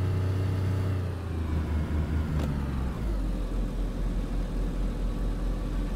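A vehicle in the video game DayZ pulls away, its engine rumbling steadily and loudly with a low, continuous drone as it drives off, with no talking over it.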